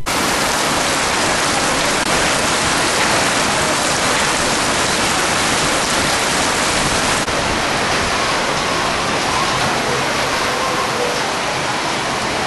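Heavy rain pours down and gushes off gutters, a dense, loud, unbroken hiss of water that holds steady throughout with no voices.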